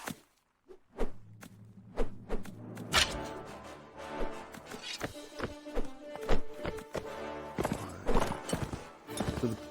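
Horse hooves in the Mount & Blade video game: a series of sharp, irregular thumps and clatters, some close and loud, mixed with other percussive in-game noises and no talk over them.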